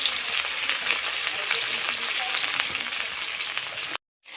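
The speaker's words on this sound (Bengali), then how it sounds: "দুদিক আমি ভালোভাবে লাল করে ভেজে নেব" Pieces of a 2.7 kg katla fish fry in a pan of oil, a continuous crackling sizzle that carries on evenly before cutting to silence.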